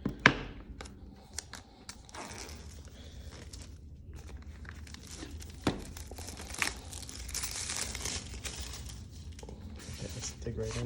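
Packaging for an Apple Watch Series 5 titanium edition is opened, with soft crinkling, tearing and scattered clicks and taps of cardboard and plastic, fairly quiet and close.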